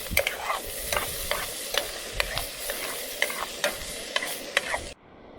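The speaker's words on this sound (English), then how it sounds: "Onion sizzling in olive oil." Chopped onion frying in olive oil in a camp pan, a steady close crackling sizzle punctuated by repeated scraping clicks of stirring, then cut off abruptly.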